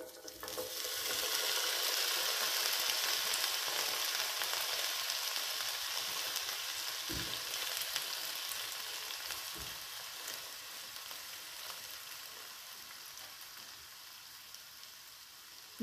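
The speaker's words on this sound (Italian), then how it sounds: "noi aggiungiamo in padella i pomodorini" Cherry tomatoes dropped into hot, fragrant oil in a pan sizzle loudly and steadily, with a brief stir or clatter partway through as the frying gradually eases off.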